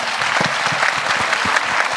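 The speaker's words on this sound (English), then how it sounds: "Give a big round of applause to children." A school audience claps for children at an Ambernath annual day celebration: a loud, dense, continuous round of applause with many hands, sustained evenly throughout, and no talking over it.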